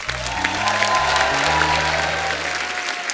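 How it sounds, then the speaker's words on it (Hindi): Studio audience on an Indian comedy talk show applauding loudly and steadily for celebrity guests, with music playing underneath the sustained clapping. "चलो जी, जोरदार होनी चाहिए तालियां।"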